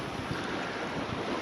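Wind of about 18 knots roars across a sailing yacht at sea, a loud continuous rushing buffet mixed with water wash, close and unbroken with no voices.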